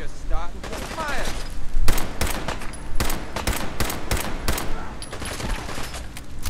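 Rapid gunfire in the video game Fallout 4 comes in repeated close, loud bursts and single cracks against ongoing game sounds, with someone talking in between.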